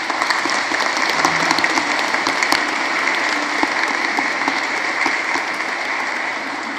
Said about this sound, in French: Je pense que ça mériterait déjà une première expression en les applaudissant